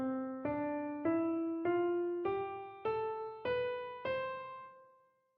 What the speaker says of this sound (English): The scale is a mix of whole steps and half steps, and it sounds like this